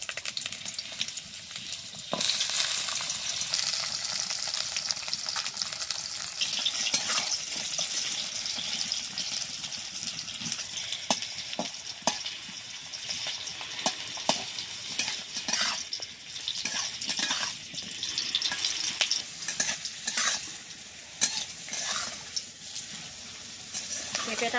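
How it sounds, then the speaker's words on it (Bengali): Papaya pieces fry in oil in a wok with a steady crackling sizzle, punctuated by repeated scraping stirs and clinks of a metal spatula throughout. "পেঁপেটা ভেজে নিচ্ছি।"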